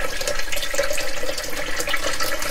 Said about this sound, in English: So I rinse my meat.